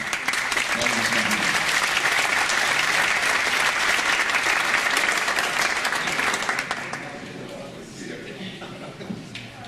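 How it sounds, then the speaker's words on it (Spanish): Audience at a Risaralda bird festival gives loud, sustained applause welcoming a speaker, dense clapping that tapers off near the end. "Lo recibimos nuevamente con otro gran aplauso al maestro."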